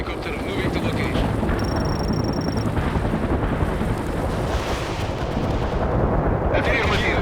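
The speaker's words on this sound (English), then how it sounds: "Helicopter moving to location." Helicopter engine drone buried under constant gunfire and explosions in the World in Conflict war strategy game, a dense, loud battle roar with radio voice chatter over it.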